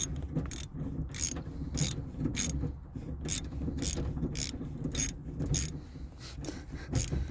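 A ratchet wrench works loose a bolt inside the trunk of a 1992 Buick Roadmaster. It gives steady, close-up bursts of metallic clicking, repeated in quick regular strokes with brief pauses over a low background hum.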